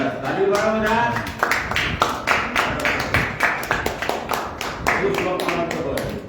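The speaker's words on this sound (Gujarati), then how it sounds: "તાળી પાડો બધા." A class claps along in a steady, fairly quick rhythm, with many hands striking together in a near room, while some voices sound over the beat.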